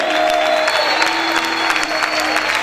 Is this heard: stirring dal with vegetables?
no